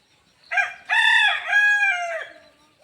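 A rooster perched in a mango tree crows loudly and close by, one long cock-a-doodle-doo with bright harmonic notes rising and then trailing off.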